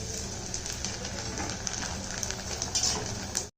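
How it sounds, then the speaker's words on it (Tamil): Flattened rice (aval) frying in a pan for a snack mix, a steady dense sizzle with crackling throughout that stops abruptly near the end. "நம்ம கொஞ்சம் வறுத்து எடுத்துக்கிடுவோம்"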